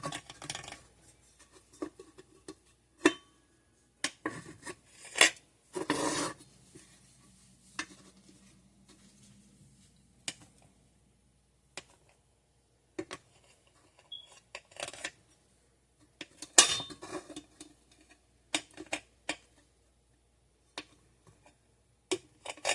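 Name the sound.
cutting kunafa pastry into blocks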